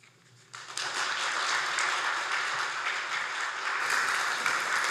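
An audience at a school awards ceremony breaks into applause after a quiet moment, the clapping swelling quickly into a sustained, even wash of many hands that holds steady to the end.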